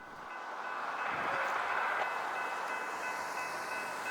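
Amtrak 517 arriving on the BNSF tracks in Sumner: a broad rolling rumble swells to a loud peak and holds there, steady and fairly close, with no horn evident.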